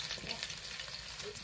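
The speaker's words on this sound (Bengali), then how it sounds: "পেঁয়াজটা একটু লাল লাল করে ভেজে নেব।" Chopped onion frying in hot mustard oil in a heated kadai, a steady close sizzle with soft crackle running throughout the short stretch, no voices.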